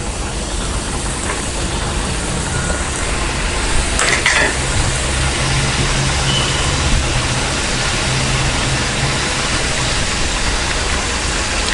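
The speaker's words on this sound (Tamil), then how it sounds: "இப்போ நம்ம டீப் ஃப்ரை பண்ணி எடுத்துக்கலாம்." Maida thattai, flat rounds of flour dough, deep frying in oil with a loud, steady, dense bubbling sizzle that runs unbroken and close throughout, with no talking.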